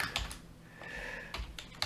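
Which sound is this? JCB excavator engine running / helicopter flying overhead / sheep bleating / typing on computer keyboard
typing on computer keyboard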